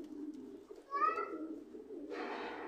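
Oman bloodline high-flying pigeons give a soft cooing call near the middle, a brief rising burble over a steady low background murmur, followed by a broader hiss of noise toward the end.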